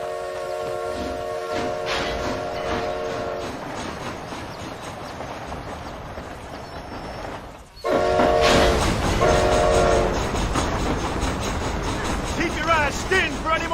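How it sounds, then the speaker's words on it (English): A train rumbles steadily along the tracks in Red Dead Redemption: Undead Nightmare, its horn blaring in held tones, then a louder burst of clattering wheels and more horn blasts after a short dip, with voices talking faintly. "This train headed for Mexico?"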